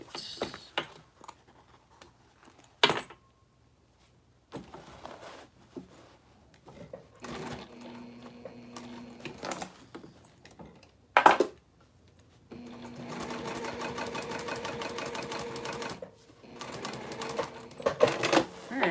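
Domestic sewing machine stitching a crossbody bag, running in several bursts of rapid mechanical chatter separated by pauses and quiet handling sounds, close and moderately loud, with a brief sharp clack midway.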